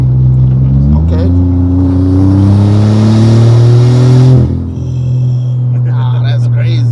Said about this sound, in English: that turbo sounds crazy